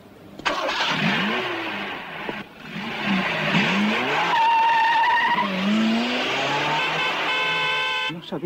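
A car is driven hard, its engine revving loudly with rising and falling pitch while tires squeal in sustained skids and screeches, close and intense, with voices talking over the driving.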